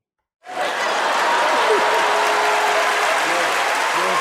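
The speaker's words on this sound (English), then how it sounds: "Round of applause, Riri." A round of applause on a podcast starts abruptly and continues as a dense, even wash of clapping, with faint voices and a chuckle audible underneath.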